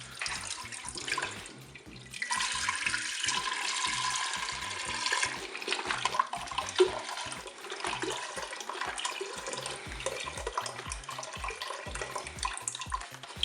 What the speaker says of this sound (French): Je verse mon lait dans la cuve.